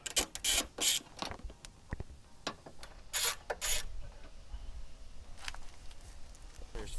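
Ratchet wrench removing bolts from a Veloster N fender, a series of sharp clicking bursts and short ratcheting spurts at close range, irregular and fairly quiet, with soft handling noises between them.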